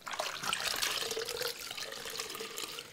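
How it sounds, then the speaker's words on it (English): A wet-felted stocking is plunged into a bucket of hot water, making soft splashing and sloshing that swells, then settles into a quieter trickle, faint and close with no talking. "But what we're gonna do is plunge this into the bucket."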